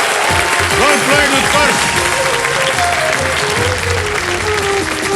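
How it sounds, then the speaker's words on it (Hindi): A studio audience at a television quiz show bursts into loud, sustained applause for a correct answer, dense clapping filling the room while someone speaks over it. "ताली बज गई, बिल्कुल सही जवाब।"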